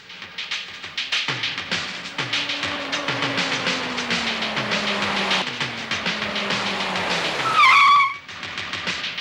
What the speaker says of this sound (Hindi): अरे लगता है गाड़ी आई, साहब लोग आ गए